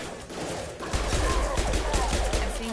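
Pistol fire in Mass Effect Legendary Edition: a string of sharp, loud gunshot reports in quick succession after a brief quieter lead-in, over steady game background noise.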